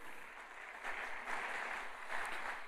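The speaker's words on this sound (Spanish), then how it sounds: "Den un aplauso al Señor." A church congregation applauding together after a prayer, a steady wash of many hands clapping at moderate volume for a few seconds, with a faint voice underneath.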